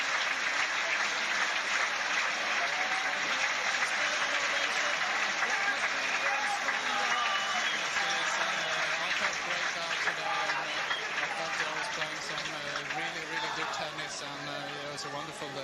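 Tennis crowd at Roland Garros in 1996 applauding Stefan Edberg after his second-round match against Moya on clay, sustained broad clapping from a large stadium audience with a commentator talking over it throughout.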